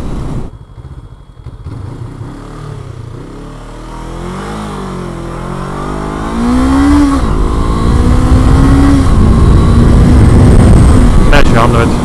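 A 2019 Honda CBR500R motorcycle with a throaty aftermarket exhaust rumbles at idle, then revs up and accelerates, growing louder and deeper toward the end.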